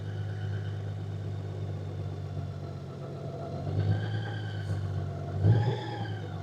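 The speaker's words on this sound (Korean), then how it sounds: "이 상태에서 워크 모드의 이쪽에 마이너스 버튼을 누르면 뒤로 갑니다." A 2025 Honda Gold Wing 50th Anniversary Tour DCT motorcycle creeps backward in walk mode, its engine humming steadily at a low idle with slight swells in level, no talking.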